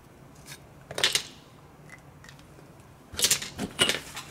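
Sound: cutting strengtheners for a scratch-built model cattle dock

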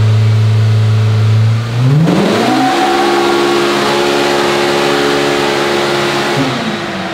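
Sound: Polaris Pro R engine revving during a dyno pull

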